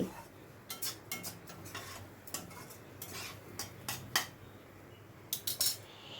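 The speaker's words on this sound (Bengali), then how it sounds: "মশলাটাকে আমি কষিয়ে নিচ্ছি, হাই ফ্লেমেই রেখেছি। অনবরত কিন্তু নাড়তে হবে।" Masala being stirred and fried in a pan over a high flame, with irregular metal spoon scrapes and clinks against the pan over a low, steady cooking hiss, close and fairly quiet.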